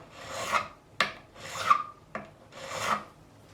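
Steel file rasps across the frets of an ESP E-II Eclipse guitar in three slow, even strokes, with sharp clicks between them as the file is repositioned; close up and quiet, with no talk.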